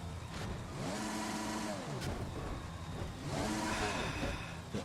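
Red Bull Formula 1 car spinning in an F1 racing game during US Grand Prix qualifying, its engine note swooping up and down in two long sweeping arcs with constant loud roar throughout.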